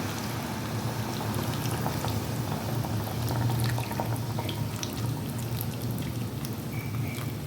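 Melted jaggery poured into a pot of mango for a mango morobba, a continuous wet bubbling and pouring wash that stays dense and steady throughout, close and fairly loud.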